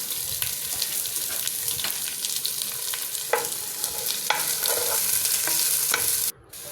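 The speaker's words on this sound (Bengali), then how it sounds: "পেঁয়াজ কুচি দিয়ে দিলাম।" Chopped onion fries in mustard oil on high flame for beef biryani, a constant crackling sizzle punctuated by repeated spatula scrapes and clacks, near and fairly loud, with no speech.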